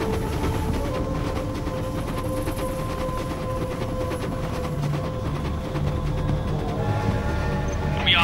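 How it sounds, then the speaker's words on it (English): Train rumbling steadily past in a Command & Conquer Generals–style real-time strategy game, a continuous loud clattering roll with a faint high screech near the end, no talk over it. "There is a train coming."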